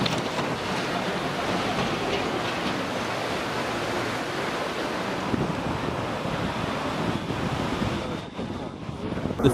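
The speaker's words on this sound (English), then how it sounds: "The fierce storm causes the ocean waves to crash violently into the coastal town." Fierce storm drives ocean waves crashing into a coastal town, a continuous loud roar of surf and gusting wind buffeting the microphone, unbroken for nearly ten seconds with a brief dip near the end.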